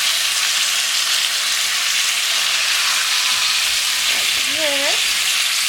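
Pork chops sizzle steadily in a pan for Puerto Rican chuletas guisadas, a loud constant hiss throughout, with a brief spoken remark near the end.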